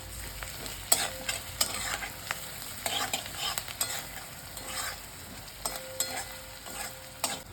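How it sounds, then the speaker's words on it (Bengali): Onion frying in a pan for prawn malai curry, a steady close sizzle broken by repeated scraping stir strokes, with no talk. "পেঁয়াজটা লাল করে ভাজা হয়ে গেছে।"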